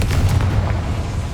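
A Confringo spell explosion in Hogwarts Legacy inside a mine, a loud, deep booming rumble with a crackling burst that fills the whole moment.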